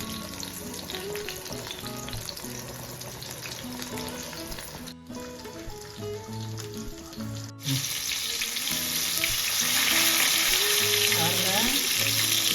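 Fish fry in oil in a pan over a low flame at home, giving a steady close sizzle and crackle that grows louder and more intense in the second half. No one speaks.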